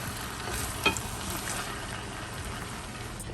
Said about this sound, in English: now I'm going to add in a can of Rotel tomatoes. The entire can. Put that in, and let's give this a toss.